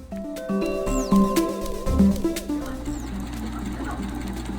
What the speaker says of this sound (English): Now we of course are going to top stitch on the collar